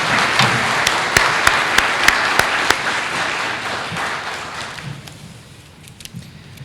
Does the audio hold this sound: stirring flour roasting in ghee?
no